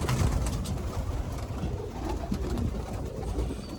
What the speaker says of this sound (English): Got the birdies out. They're flying.